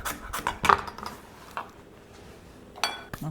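A knife slices carrots thinly for a turkey pot pie, giving a handful of sharp, irregular chops and taps on the board, close and clear with quiet gaps between.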